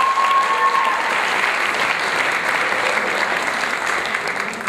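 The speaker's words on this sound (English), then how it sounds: "So give yourselves a round of applause." Graduation audience giving themselves a round of applause: a full, even wash of clapping throughout, with a brief whoop near the start.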